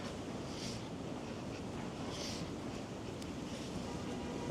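Steady wind rushes and roars continuously on a Manhattan street, New York City, a constant broadband hiss with faint swells, no voices present.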